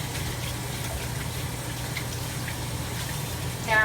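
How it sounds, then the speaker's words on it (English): Steady rush of running water as hands are rinsed under a tap, continuous and moderately loud with a brief swell at the end; no talk. "I'm gonna rinse my hands."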